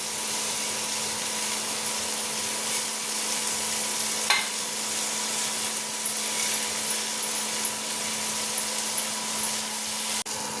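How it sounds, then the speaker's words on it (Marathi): Vermicelli stir-fried in an onion tempering gives a steady, fairly faint sizzle with light scraping from stirring, continuous throughout with a soft clink partway. "शेवया फोडणी तशा घातल्यावरती पुन्हा एकदा छान परतून घ्यायच्या."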